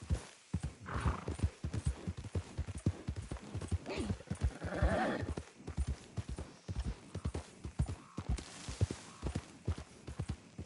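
Horse hooves clip-clop in a steady rhythmic gait across the ground in Red Dead Redemption 2, with a brief neigh partway through, close and continuous against a quiet outdoor background.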